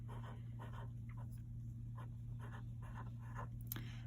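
Numbers being written on a board by hand, heard as a run of short scratchy strokes in an irregular rhythm over a loud constant low hum, with no talk.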